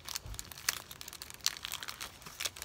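A double-wrapped chocolate wafer package is unwrapped, giving crinkly plastic rustling and crumpling with several sharp crackles, close and fairly soft, with no voices.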